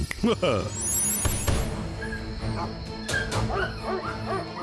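Cartoon dogs bark, yip and whimper in quick bursts, close and lively, mixed with voices speaking over the animal sounds.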